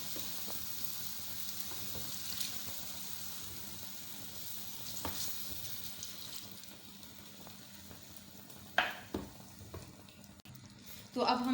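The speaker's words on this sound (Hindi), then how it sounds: "मिक्स करते हैं ताकि गुठलियाँ ना बने और अच्छी तरह से मिक्स हो जाए।" Milk is whisked into a batter for chicken buns, a steady wet swishing and sloshing against the bowl. A few louder clinks and scrapes come near the end.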